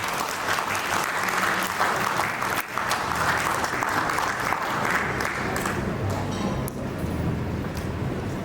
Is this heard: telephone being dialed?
no